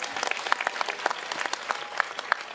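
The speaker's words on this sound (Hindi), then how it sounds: "एक बार जोरदार तालियां बजनी चाहिए इस मंदिर के लिए।" A crowd claps steadily in sustained applause for a temple at a Pran Pratishtha consecration festival of the Shri Shyam temple in Bankura, with many overlapping hand claps at moderate volume.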